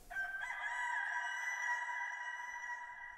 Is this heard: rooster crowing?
yes